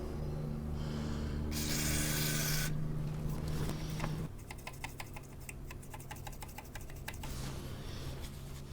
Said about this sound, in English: And for what it's worth, I'll clean the output valve socket as well.